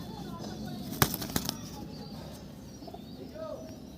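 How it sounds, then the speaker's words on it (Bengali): Pigeons in a loft of high-quality local birds, with soft cooing in the background and a brief burst of sharp wing flaps near the start, all fairly quiet. "হারুফুদে বংশের পায়রা এটা।"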